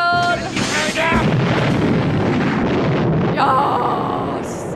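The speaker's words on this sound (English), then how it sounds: "Blimp explosion." A blimp explodes in the James Bond film A View to a Kill: a loud, sustained broadband blast and rumble that roars continuously for several seconds, with brief voice-like tones near the start.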